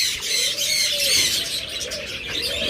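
Pigeons on a breeding farm coo and twitter softly in a steady close chorus, with bright chirps and low throaty coos layered over a constant rustling background.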